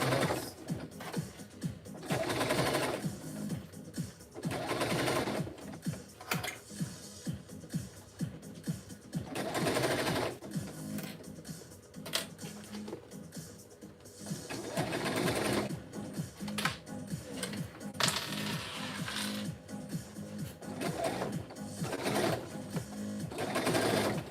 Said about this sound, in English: this one we are going to sew at the 1/4 inch mark